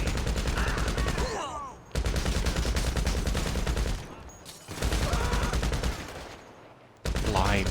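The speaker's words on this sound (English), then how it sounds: "Blind firing a heavy machine gun is always a bit of fun" Heavy machine gun blind fire in GTA Online, long sustained automatic bursts broken by brief pauses, loud and close, with a few other game sounds between bursts.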